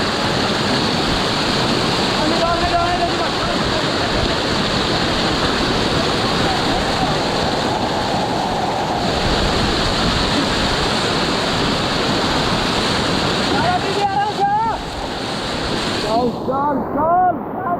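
Fast, turbulent river water rushes loudly and steadily in a rainy Uttarakhand mountain valley while people wade across on foot, a continuous close roar with faint voices briefly calling out under it.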